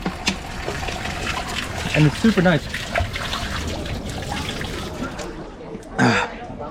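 Water running from a drinking fountain on Dubrovnik's city walls, a steady splashing trickle heard close by under a man's speech, with outdoor background noise throughout.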